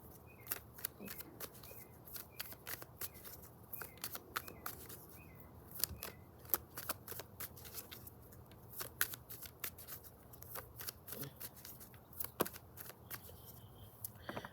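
Tarot cards being shuffled in a steady run of crisp riffling clicks and snaps, close and fairly quiet over a low background hum, with no talking.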